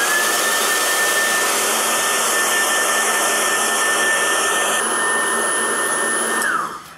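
A hair dryer blows steadily on freshly painted resin, a loud, close, constant whooshing roar with a high motor whine that switches off and winds down at the very end.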